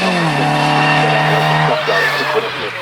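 A Peugeot 205 GTI club rally car with an MI16 engine, in old Peugeot Talbot Sport colours, roars loudly at close range on a morning rally stage, its engine note holding steady and then shifting as it passes.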